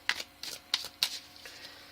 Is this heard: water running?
no